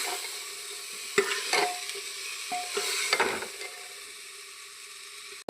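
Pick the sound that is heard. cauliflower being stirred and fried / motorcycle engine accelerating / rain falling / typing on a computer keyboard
cauliflower being stirred and fried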